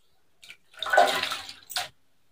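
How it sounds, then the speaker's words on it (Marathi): Split lentils for mung dal vada are tipped into a tub of clean water for washing, giving a brief close splash and pour lasting about a second, followed by a short second splash. "आणि चांगल्या पाण्यात टाकू."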